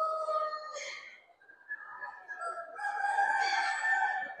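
A black Cochin rooster at a poultry show crows loudly and close in a long, drawn-out call, followed by a second sustained crow.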